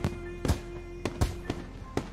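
Fireworks in the visual novel game Katawa Shoujo burst in a quick series, about five sharp cracking pops spaced roughly half a second apart over a low, steady background hum.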